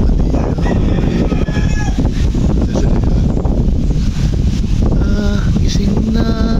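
Strong wind buffets the microphone throughout, a loud rushing roar with snatches of people talking underneath.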